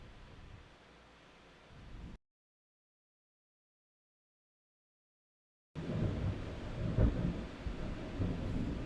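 A thunderstorm rumbles low and heavy with wind and rain, a dull roar that cuts to silence for several seconds and then returns louder with a deep thunder boom.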